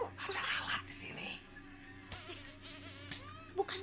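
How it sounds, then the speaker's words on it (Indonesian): A fly buzzes faintly in an animated show in short whining bursts, heard under a little background talk. "Beneran ada lalat loh."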